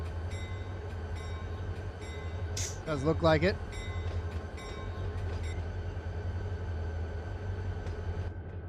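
A freight train in the Run 8 train simulator rumbles with a steady low drone, joined by a short, loud squeal in the middle. Someone speaks briefly over the train noise.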